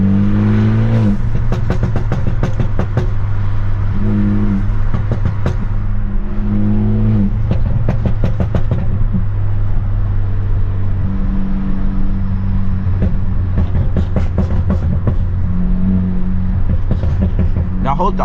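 A straight-piped stage 2+ BMW F30 under hard acceleration, with loud rising and falling engine harmonics through repeated gear pulls and sharp exhaust pops and crackles in between, recorded up close with a voice now and then.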